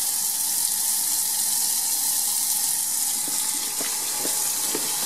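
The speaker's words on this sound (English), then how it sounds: "all they have to do is run some hot water over top of it" Hot water runs over a pre-painted portable projection screen, a steady hissing splash of flowing water close to the microphone, with a few faint taps and drips toward the end and no speech.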